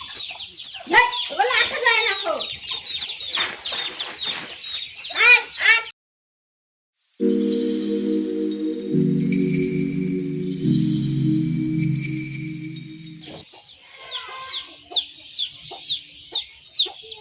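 Chickens cluck in a yard in a remote village, with bursts of close, busy calling at the start and end and a steady low droning tone filling the middle stretch.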